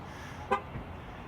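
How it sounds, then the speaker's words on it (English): The horn of a 2016 Dodge Dart gives one short, distant toot, followed by a fainter second one, over a steady outdoor background hum. "I get 2 horn honks and nothing."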